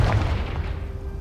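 A Confringo spell explosion from the Hogwarts Legacy video game, a single loud low boom at the start that rumbles and decays over about a second.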